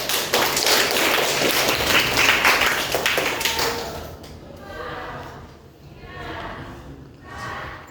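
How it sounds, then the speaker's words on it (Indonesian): Children in a classroom clap their hands together, a dense burst of many small claps that fades into scattered softer claps over the last few seconds. "tepuk tangan dulu"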